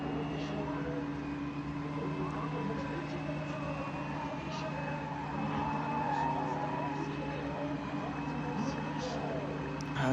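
Drift cars at a Katowice airport semi-pro competition idle and roll back up to the start line, a low steady engine drone with tonal hum, heard under continuous commentary.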